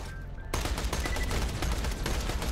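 Rapid gunfire from the video game Borderlands 3 erupts after a brief quiet moment and continues as a dense, loud volley of shots to the end.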